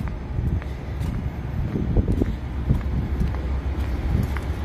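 Strong gusts buffet an outdoor microphone during a walk, a steady low rumble with irregular thumps throughout, fairly quiet overall.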